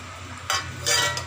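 Whole cloves, cinnamon pieces, green cardamom and shahi jeera drop into hot oil for a prawn malai curry, giving two short bursts of sizzling over a low steady hum, close and moderately loud.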